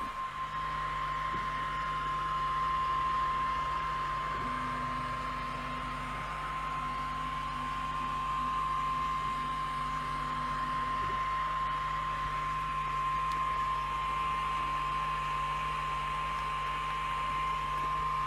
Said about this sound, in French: le ventilo se lance et elle fait un boucan d'enfer.